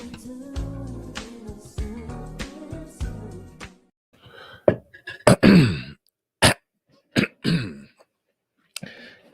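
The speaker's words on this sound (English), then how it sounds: "Let me clear my throat." A man clears his throat several times, with deep rasping hacks at first followed by sharper separated coughs and grunts with short silences between them.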